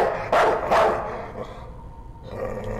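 A dog barks in a video game, two sharp close barks in quick succession followed by fainter rustling game ambience.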